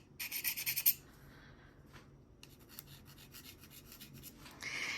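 A dry, gritty scraping of something rubbed across the etched logo on a Benchmade knife blade, a quick burst of rapid strokes at the start followed by fainter intermittent scratching, close and quiet.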